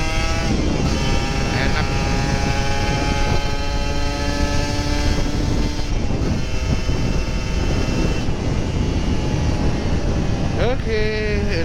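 A Kawasaki Ninja RR 150 motorcycle engine warms up before a morning ride, idling with a steady buzzing drone and occasional light revs, heard close with wind noise while someone speaks briefly.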